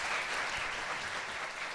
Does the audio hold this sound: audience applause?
yes